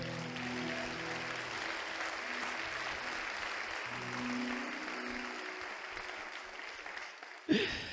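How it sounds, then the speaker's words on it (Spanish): A church congregation applauds in praise during a sermon, a steady soft wash of clapping from a crowd that carries on throughout, ending in a brief louder knock near the close. "Oye, eso merece un aplauso para el Señor."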